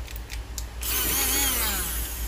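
A modified 550 motor running on 220V inside a homemade power tool, with two extra cooling holes drilled in its housing, spins up abruptly to a loud, steady high-pitched whine, close by.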